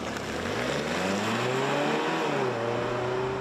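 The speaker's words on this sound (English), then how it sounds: "even if you're in EV mode and you floor the throttle, the gas engine will kick on" Gas engine of a 2024 Mazda CX-90 PHEV plug-in hybrid SUV kicking in at full throttle, a loud, continuous engine note climbing steadily in pitch as the vehicle accelerates hard.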